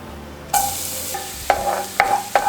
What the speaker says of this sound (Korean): 팬이 달궈지면 마늘부터 넣어주세요